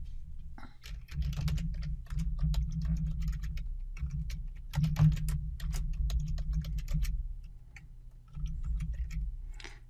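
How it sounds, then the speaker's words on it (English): Rapid clicking of keys as a password is typed on a computer keyboard, steady close-up tapping over a low, constant background hum, with no one talking. "And then just type in the password."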